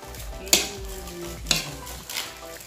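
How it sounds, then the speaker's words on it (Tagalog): Pork menudo in a pot gives a low, soft bubbling sizzle, with two clear metallic clinks of a utensil against the pot and a duller knock near the end. "Simmer muna po natin siya para manuot yung kanyang lasa."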